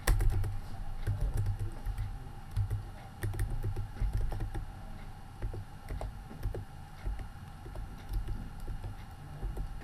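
Fingers tap out a new password on a computer keyboard in quick, uneven clusters of light clicks, close and clear over a faint room hum, with no voices.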